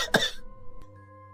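An elderly woman who is ill gives a single short, sharp cough close by, then a quiet room with a faint steady hum.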